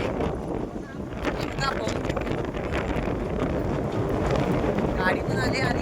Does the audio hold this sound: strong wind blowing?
yes